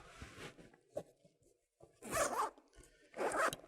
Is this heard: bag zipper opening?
yes